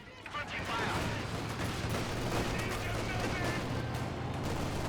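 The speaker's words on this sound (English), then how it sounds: "We have the MG42 firing ways, pressing that one squad." Sustained MG42 machine gun fire in a Company of Heroes 2 battle replay, a dense continuous chatter with scattered battlefield gunfire, steady and fairly loud throughout, with commentary talking over it.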